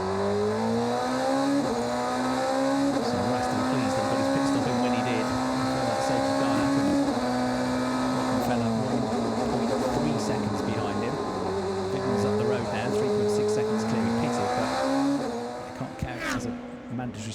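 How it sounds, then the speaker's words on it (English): DTM race cars lapping the Zolder circuit give a loud, continuous engine drone with rising and falling pitch as they accelerate and shift. A commentator talks over it throughout. "he just understeered on the cold tyres, and Rast had to get off the throttle"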